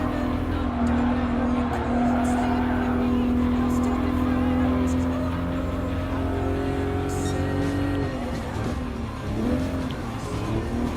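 Racing cars in Gran Turismo Sport, including a 2019 Supra, produce a sustained loud engine drone with a steady pitch that drops and shifts near the end as the car changes gear, with faint tire noise beneath.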